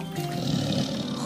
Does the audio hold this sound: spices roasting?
no